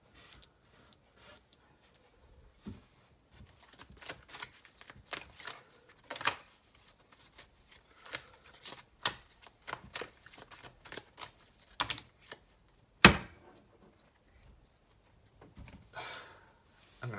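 Tarot cards being gathered up and shuffled on a table: soft, close riffles and flicks in irregular bursts with quiet gaps, one sharper slap near the end.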